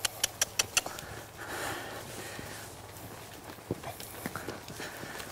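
A colt's hooves clip-clop in a quick run of sharp, close strikes at the start, then the steps go softer and more scattered as the young horse changes direction, with faint snorting and breathing.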